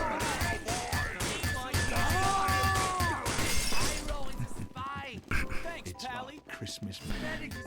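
Glass shattering in Team Fortress 2 amid busy in-game clatter and other effects, with a voice talking over much of it.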